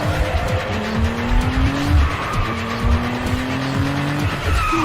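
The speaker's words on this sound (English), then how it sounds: "you get to race against their leader, Eddie." Race cars speed through a street race in Need for Speed Underground, with loud engine drones rising and falling in pitch through gear shifts and tires squealing, continuous and close.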